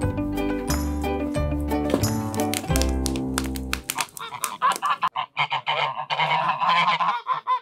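Music with struck tones plays first, then cuts to geese honking loudly and repeatedly up close in a noisy, overlapping clamor at a village in Karavelovo, Bulgaria.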